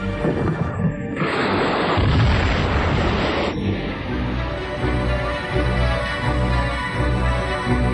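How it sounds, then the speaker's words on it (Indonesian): A loud, rumbling blast with dense, heavy low-end noise that fades into a continuous roar, with no voices heard. "Ini akan meledak."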